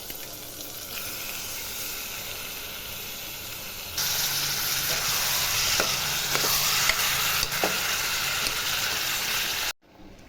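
Mutton pieces and ginger-garlic paste frying in a pan with softened onions and masala, a steady close sizzle that grows louder and fuller midway, with a few soft clicks of stirring before it cuts off sharply.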